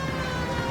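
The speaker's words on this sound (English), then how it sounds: "I don't know why I turned the siren on." A police car siren in the L.A. Noire video game wails steadily at moderate volume for a brief moment, with no talk over it.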